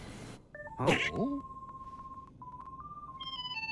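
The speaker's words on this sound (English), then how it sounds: "Sora, somebody's calling us on the gummy phone." The gummy phone in the video game Kingdom Hearts 3 rings with a steady electronic tone, followed by a rising series of stepped beeps. A brief voice and a short effect sound over it near the start.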